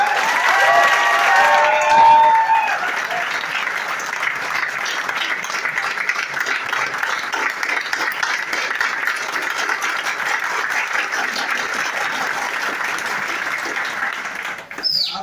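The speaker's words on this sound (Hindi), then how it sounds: "ताली बजाना आता है? तो बजाओ में भाड़ा थोड़ी लगता है, बजाओ." An audience at a seminar breaks into prolonged clapping, dense and steady for about fifteen seconds, with a brief whistle near the start and the applause tapering off at the end.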